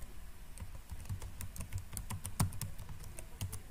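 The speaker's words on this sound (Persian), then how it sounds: "پاسورد خود نوشته کنید" Quick, light clicks of someone typing a password on a computer keyboard, an irregular patter of keystrokes heard up close in a quiet room.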